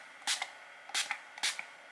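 A pump bottle of makeup setting spray fires three quick, close hissing spritzes, evenly spaced about half a second apart, each a short airy burst in an otherwise quiet room.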